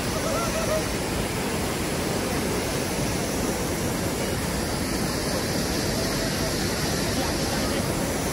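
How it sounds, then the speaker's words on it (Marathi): Athirappilly waterfall in Kerala, heard from a viewpoint above, gives a continuous dense rushing roar of falling water, steady and unbroken throughout with no voices. "वरून आतिरापल्ली वॉटरफॉल आता मी तुम्हाला दाखवतो."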